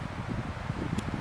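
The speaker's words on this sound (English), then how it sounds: "it's windy" Gusty wind blowing against the microphone at Disappointment Lake in the Boundary Waters, a constant low rumble and rustle with no voices.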